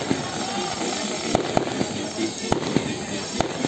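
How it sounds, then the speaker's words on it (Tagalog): Fireworks go off at a resort, a series of sharp distant bangs at irregular intervals over a continuous rumbling background, with people talking. "Fireworks."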